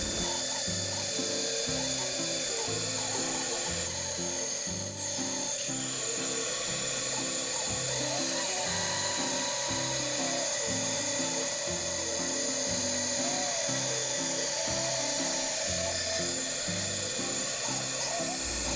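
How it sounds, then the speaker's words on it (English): Bandsaw fitted with a very thin blade cutting wood for a dagger build, a steady whirring hum with a rhythmic pulsing texture that runs close and continuously without talking. "very thin blades on this bandsaw"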